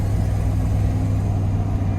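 A 1994 GMC Sierra 4x4 pickup truck engine pulling steadily on a test drive, a continuous low rumbling drone with road noise heard from inside the cab.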